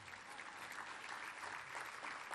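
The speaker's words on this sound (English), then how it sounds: "you can applaud that" Audience applause at an environmental breakfast event, a steady broad wash of clapping throughout, fairly distant and uniform.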